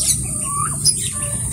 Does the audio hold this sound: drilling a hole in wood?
no